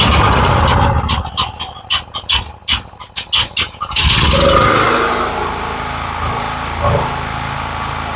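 A small generator engine meant for a go-kart, run on temporary fuel and choked, cranks with a few rough sputtering pulls, then catches and settles into a steady high-pitched running drone.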